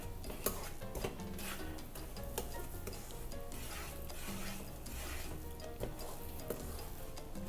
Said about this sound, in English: So let's get this stirring.